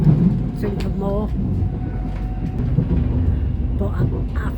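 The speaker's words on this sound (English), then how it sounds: "But I'm loving these train journeys, you know." The inside of a passenger train carriage on the Southport to Liverpool line gives a steady rumble and hum of wheels on track, with a voice speaking briefly over it.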